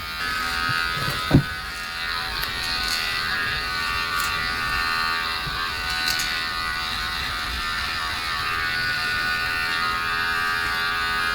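A Manspot groin and body trimmer buzzes steadily and close while trimming underarm hair, its hum unbroken apart from a brief knock early on and a few faint clicks.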